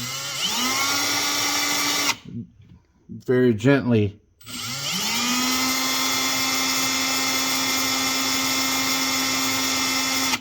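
A power drill drills through thin plugs on a 1971 Ski-Doo Elan snowmobile, whining steadily and loudly, stops briefly while a person speaks, then spins up again and runs continuously to the end.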